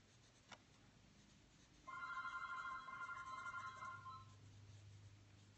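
A cell phone rings with a repeated electronic tone pattern lasting about two seconds, moderately loud in a quiet room, followed by a faint low hum and a single small tap just before.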